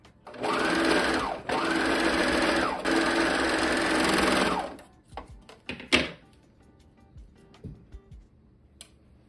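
A sewing machine stitches a leotard made from an Under Armour shirt, with two long, steady motor runs broken by a short pause, then stopping, followed by a few handling clicks and soft fabric rustles.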